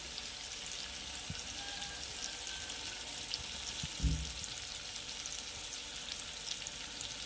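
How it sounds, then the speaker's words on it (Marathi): Gram flour roasting in oil with softened spring onion greens gives a steady, even sizzle with a single soft stir or knock partway through. "बसेल तेवढं बेसन तेलामध्ये आता छान याला भाजून घ्यायचं आहे"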